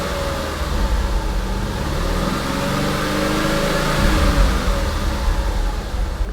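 An Audi C5 RS6 engine with a chain tensioner problem revs up from idle, a loud, close rumble that climbs in pitch, holds, then settles back down.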